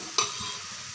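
A spoon stirs banana flower poriyal with cooked chana dal in a pan, a single close scrape against a faint steady sizzle.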